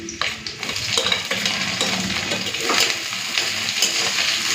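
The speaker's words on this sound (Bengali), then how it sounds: "পেঁয়াজটা একটু লাল করে ভেজে নিই" Chopped onion sizzles steadily in hot oil with garlic, black cumin and dried chillies, a continuous loud frying hiss broken by occasional stirring scrapes, close up with no talking.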